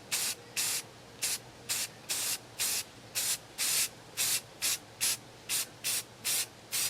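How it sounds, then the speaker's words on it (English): A spray can of gloss white primer coats a batch of fishing lures in about fifteen short, evenly spaced hissing bursts, close and clear, with quiet pauses between each spray. "Got some good old primer paint gloss white that I'm going to use for the base for all of these. And just going to give them a quick coat."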